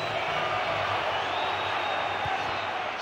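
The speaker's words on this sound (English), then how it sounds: "he deserves the applause" Football crowd at Fratton Park during a Portsmouth versus Arsenal FA Cup tie, a steady broad roar of applause and murmur filling the ground, continuous and fairly distant without distinct claps.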